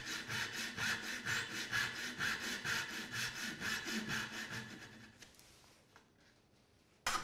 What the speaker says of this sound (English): When cutting the tails, I like to cut the same angle of all of the tails before tilting my saw and cutting the other sides.